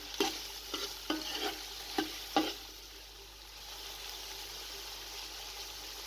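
Tomatoes, chilies and spices being fried and stirred in a pan for potato and pea pulao, several scraping stirs with soft sizzling, then a steady quiet frying hiss near the mic.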